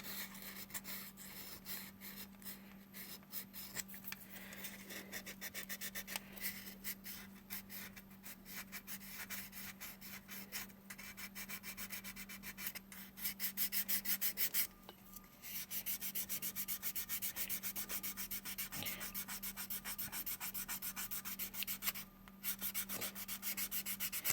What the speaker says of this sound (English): Now let's do some reshaping. Again with my UMP sander.